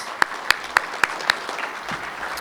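An audience at a tuning talk claps, with a handful of sharp, evenly spaced hand claps standing out near the front before thinning into a softer, scattered patter.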